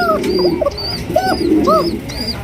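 Pigeons cooing close by, a few soft rising and falling coos repeated in a loose rhythm over a low background hum.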